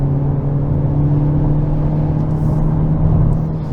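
A 2022 Hyundai Elantra N on a race track, heard as a loud, steady engine drone with a constant whirring hum and low rumble throughout.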